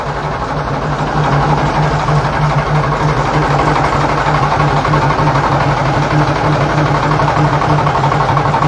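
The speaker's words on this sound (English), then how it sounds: "I think the diesel engine in that one is a MAN." The MAN diesel engine of a North British locomotive idles in a loud, steady drone with a constant low throb that carries on unbroken throughout, with no voices over it.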